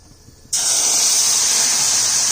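Black cumin paste hits hot oil in a fish curry pan with a sudden loud, steady sizzle that starts abruptly after a brief quiet moment and holds bright and close.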